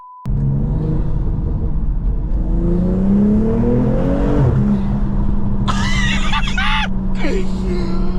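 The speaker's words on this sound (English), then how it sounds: "This car sounds sick." A BMW M240i engine drones and climbs in pitch as it accelerates, a loud steady rumble inside the car, with a brief squealing whine near the end.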